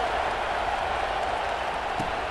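A stadium crowd in EA Sports College Football 26 cheers as a dense, steady roar of voices and applause, continuous and loud throughout with no clear breaks.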